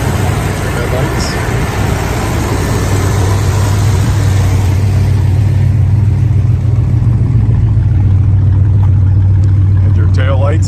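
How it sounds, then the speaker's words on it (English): A muscle car's engine idles with a steady, deep rumble through its dual exhaust, loud and close, with a low throaty drone and light background noise. "the dual exhaust. It's got a nice sound to it."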